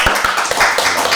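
A brief burst of quick hand clapping from a few people closing a podcast recorded at a table, loud and close, lasting only about a second.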